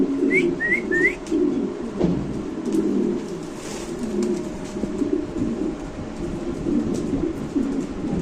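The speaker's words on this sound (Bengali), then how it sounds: "এখানে আছে এক পেয়ার মডার্না কবুতর, আপনি দেখতে পাচ্ছেন" A pair of Modena pigeons at a pigeon seller's place coo in soft, low rolling calls close by, with a few high bird chirps early on and a steady background hum.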